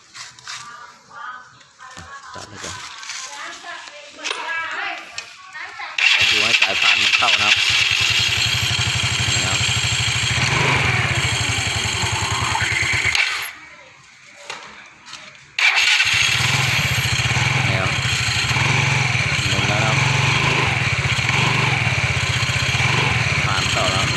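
Yamaha Fino scooter with a broken drive belt cranked and started, then settling into a loud, steady close-up idle that cuts out briefly and restarts, with a voice talking at times.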